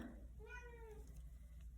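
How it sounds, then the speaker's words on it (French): A cat gives a single clear meow, faint and close, against a steady low background hum while someone crochets a bikini top. "Coucou le chat, bouge s'il te plaît."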